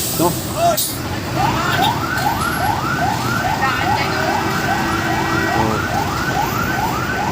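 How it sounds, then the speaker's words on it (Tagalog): Ambulance sirens wail, sweeping up and down repeatedly, loud and close, over steady heavy traffic noise in Lucena, Quezon, with a voice briefly speaking. "ang daming ambulansya."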